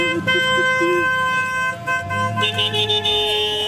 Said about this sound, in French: Allez, on klaxonne là! Allez, on klaxonne!